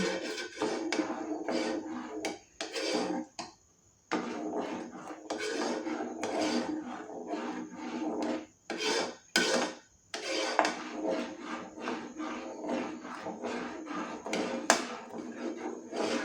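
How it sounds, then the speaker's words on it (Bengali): Spoon scraping and clinking in a pan while sugar is stirred into fruit custard, repeated rhythmic scrapes with short gaps, close and fairly quiet. "এই যে চিনিটা রেখেছিলাম সেই চিনিটা আমি এটার মধ্যে মিশিয়ে দেব, দিয়ে কন্টিনিউয়াসলি এটাকে নাড়তে থাকবো"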